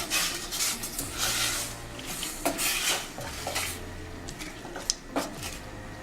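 A spoon scrapes and clinks against a pot while salt is stirred into Nigerian banga soup, with repeated metallic knocks and rubbing strokes, close and moderately loud with no talking.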